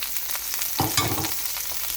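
Onions hitting hot vegetable oil in a pan give a sudden sizzle partway through, with a steady frying hiss carrying on close by, and no voices.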